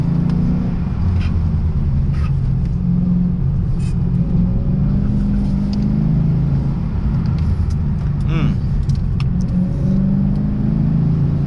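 A Lexus RC F with a Torque Vectoring Differential accelerates hard on a track, its engine a loud steady rumbling roar from inside the car, holding strong throughout with brief higher whirs and tire noise.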